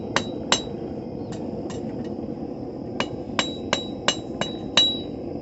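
Hammer blows shaping a thin 1/4 inch steel rod into a hairpin at the forge: sharp metallic strikes, a pair and then a single, followed after a pause by an irregular run of ringing hits, close and clear over a steady low background hum.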